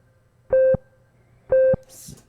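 Two identical resampled synth blips, each a short bright tonal beep about a second apart, followed by a faint hissy tail, set against near silence.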